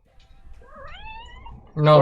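A domestic cat gives a single rising, drawn-out meow, close and clear, before a person's voice cuts in loudly at the end.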